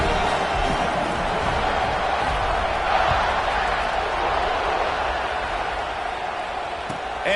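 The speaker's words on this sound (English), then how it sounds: "this crowd is buzzing after that last score." A large football stadium crowd at a Georgia vs LSU game keeps up a steady, loud buzzing roar just after a touchdown, with a brief swell of cheering partway through.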